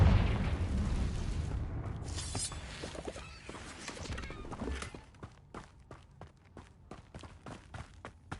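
A Confringo spell explosion in Hogwarts Legacy booms loudly at the start, then fades into rumbling debris, followed by a string of sharp, evenly spaced clacking impacts as things settle.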